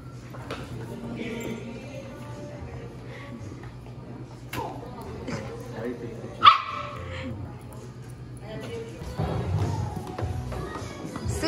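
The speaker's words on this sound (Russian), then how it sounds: "Привет, собака. Сейчас будет гавкать." A dog barks briefly outdoors, a single sharp bark standing out amid ongoing talking and background noise.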